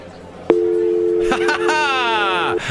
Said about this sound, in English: Where's my dial tone sound effect?